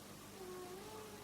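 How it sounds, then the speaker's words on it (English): An indoor house cat gives a single, faint, drawn-out meow that lasts about a second. "excuse my cat"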